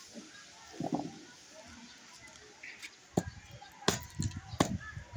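Sharp knocks of stone striking something hard, a few scattered hits then quicker blows, with faint background noise and distant sounds.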